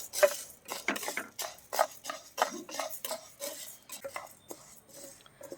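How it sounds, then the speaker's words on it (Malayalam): Urad dal is dry roasted in a pan, stirred with a utensil that gives soft, rapid scrapes, rattles and clinks against the metal at a quiet, close level, with no talk. "അതിൻ്റെ കളറൊക്കെ ഒന്ന് മാറി ഒരു ഗോൾഡൻ ബ്രൗൺ കളർ ആവുന്ന വരെ ഒന്ന് വറുത്തെടുക്കാം"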